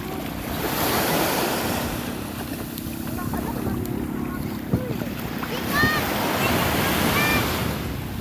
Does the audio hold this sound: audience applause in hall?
no